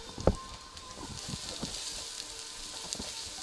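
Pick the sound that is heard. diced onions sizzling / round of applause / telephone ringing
diced onions sizzling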